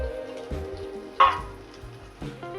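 Chopped garlic, ginger and chili hit hot oil in a pan, giving a soft sizzle with a few brief splattering bursts and stirring clinks, fairly close and without talk.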